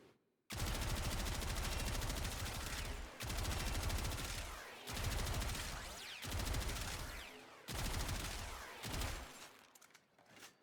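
Gotva Prime gun firing in Warframe: several sustained bursts of rapid automatic fire, loud and close, separated by short pauses, with no talking over it.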